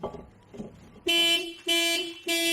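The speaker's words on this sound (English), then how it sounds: "Sorry about the alarm." Car alarm going off near a 2010 Toyota Corolla S during a brake job: after some faint rustling, three loud, repeating electronic siren bursts sound in succession, close by.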